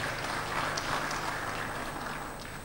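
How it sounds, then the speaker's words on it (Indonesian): Audience applause at a speech by a West Java regional official, a steady wash of many hands clapping at moderate distance, fairly even and slightly fading over its short length. "Tepuk tangan untuk Prof Judan."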